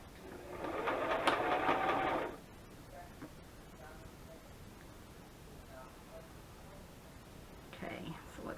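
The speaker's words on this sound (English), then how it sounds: "Just going to sew across the top." A sewing machine stitches a quick two-second burst across the top of a burlap and lace cover, loud and close, followed by quiet fabric handling and faint murmuring.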